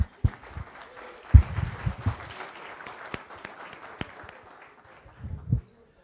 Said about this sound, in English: if we could get a round of applause for all of our visitors and guests